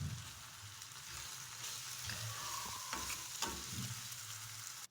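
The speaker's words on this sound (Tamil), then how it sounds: "இப்போ இது நல்லா வதங்கி வந்துருச்சு" Spices and tomato sauté in a pan for dhaba-style Punjabi rajma masala, giving a steady close sizzle with faint stirring scrapes and no voices.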